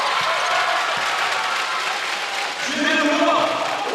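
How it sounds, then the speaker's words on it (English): Capacity crowd of New Taipei Kings basketball fans roaring and cheering in a packed gymnasium during a finals game, a steady wall of crowd noise with a commentator talking over it. "Kings fans making as much noise as possible."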